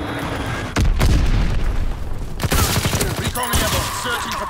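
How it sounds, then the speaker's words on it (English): A bomb explodes in Call of Duty: WWII at Pointe du Hoc: loud, close blasts hit in several heavy booms over steady gunfire and battle noise, with brief game voice chatter underneath. "Enemy bomb incoming."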